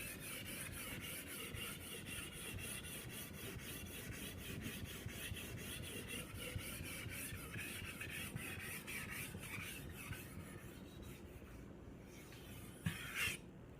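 A machete blade is stroked repeatedly across a Japanese water whetstone, producing a close, rhythmic gritty rasp of back-and-forth scraping that runs continuously, with a brief clatter near the end.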